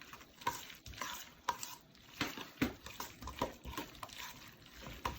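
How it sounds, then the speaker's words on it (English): A spoon scrapes and taps in a bowl, stirring a spicy tuna mixture with wet, squelching sounds in an uneven, repeated rhythm, close and fairly quiet. "So now we get to stir and mixing it up."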